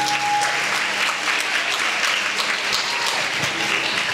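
Steady, dense applause from the audience at a primary schools music competition in Trinidad continues throughout at full strength, with a brief tonal whistle near the start.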